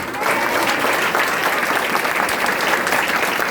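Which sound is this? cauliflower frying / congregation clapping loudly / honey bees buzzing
congregation clapping loudly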